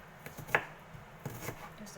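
A knife chopping food on a cutting board in a home setting, giving a few quick, fairly close cuts under faint background noise.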